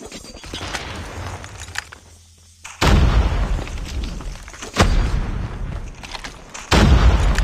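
Frag grenade blasts in the Call of Duty Mobile shooter game, with three loud booming explosions spaced a couple of seconds apart over continuous gunfire and game noise.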